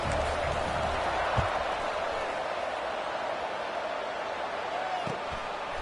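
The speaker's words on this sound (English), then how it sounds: "this crowd is buzzing after that last score" A stadium crowd in the College Football 26 video game keeps up a steady, dense roar after a score, loud and continuous with a few thumps and faint voices underneath.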